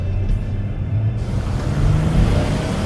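A 2015 Kia Sorento engine revs with a steady, loud low rumble. It is held near 2,000 rpm without climbing higher, and no voices are heard.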